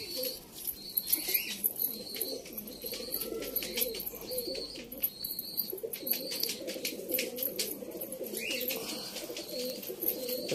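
Pigeons in a loft coo and murmur steadily throughout, with soft wing flutters and occasional chirps; no one speaks.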